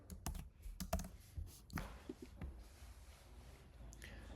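Python code typed on a computer keyboard, with quick bursts of clicking keystrokes followed by a few sparse taps. The typing is fairly quiet and no one speaks.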